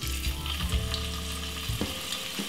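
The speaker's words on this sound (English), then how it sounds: "Fry them for about roughly about 3 minutes on both sides until they get a little bit stiff." Frankfurters fry in oil in a frying pan on a stovetop, giving a steady, close sizzle and crackle that runs unbroken through the whole stretch with no voices.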